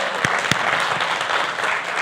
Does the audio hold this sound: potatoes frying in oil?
no